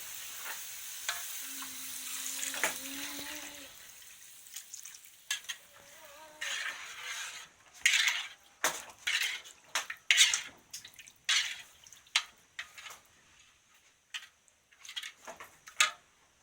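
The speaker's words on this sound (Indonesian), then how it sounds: "Masukkan santan" Coconut milk is poured into a hot pan for an Acehnese shrimp curry: an early steady sizzle under a brief tone, then a run of separate stirring scrapes and bubbling splashes, close by and uneven in rhythm.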